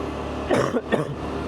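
A person coughs twice in quick succession, close and fairly loud, short harsh bursts over a low steady background hum.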